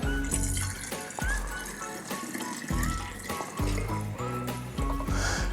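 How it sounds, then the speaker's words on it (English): Keto margarita mix pours into a mason jar in several separate splashy bursts, with liquid gurgling and rising tones as the jar fills, close and fairly loud amid background music. "Get yourself a little jar, mason jar, whatever you like. So we're gonna go fill this up."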